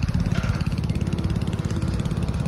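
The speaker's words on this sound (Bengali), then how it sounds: "মেশিন লাগিয়েছি, আমি ধান খেতে জল দিচ্ছি" An engine-driven water pump irrigating a rice paddy runs close by with a steady, fast, chugging mechanical drone, loud and unbroken, with no voices.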